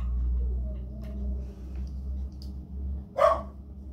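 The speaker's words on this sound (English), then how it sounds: "Sorry, I've got dogs in the background." A dog gives one sharp, loud bark near the end, over a low steady household hum while honey cornbread mix is measured out in a home kitchen; no one talks.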